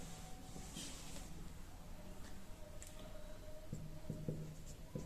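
A pen or marker writes out probability equations on paper or a board, faint scratchy strokes in short bursts against a quiet room hiss.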